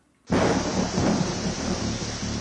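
A steady, dense roar of heavy monsoon rain in West Bengal bursts in after a brief silence and holds loud throughout, with a low rumble like thunder underneath.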